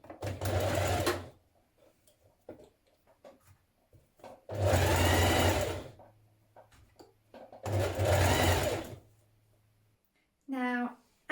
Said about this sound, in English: We're going to stitch that in place now.